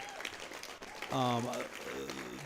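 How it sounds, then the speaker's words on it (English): A school board meeting audience applauds the organizing team, a broad wash of clapping that swells midway as a voice rises briefly over it. "Let's give them a huge round of applause."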